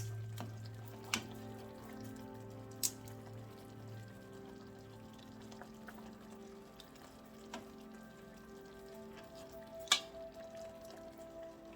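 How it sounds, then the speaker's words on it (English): Pan-seared pork chops simmer in liquid in a skillet, giving a faint, steady low bubbling hum broken by a few sharp clicks, with no talk. "I want these pork chops to simmer"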